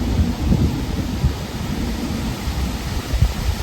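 Thunder rolls through a New Jersey lightning storm as a low, continuous rumble with pulsing swells and rain hiss beneath, fairly loud and sustained without any voices.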